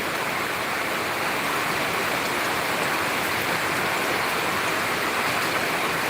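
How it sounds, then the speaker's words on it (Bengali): Heavy monsoon rain pours down in a dense, unbroken roar, loud and steady throughout with no voices or breaks. "প্রচুর পরিমাণ বৃষ্টি হচ্ছে"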